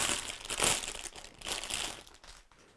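A counterweight bag for a studio lighting set, made of two pockets with Velcro closures, is handled close up, giving loud, uneven crinkling and crumpling that swells and fades.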